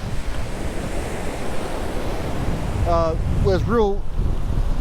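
Strong wind and breaking surf roar steadily at St. Joe Beach, a loud continuous wash of waves and wind noise, with someone briefly talking over it near the end.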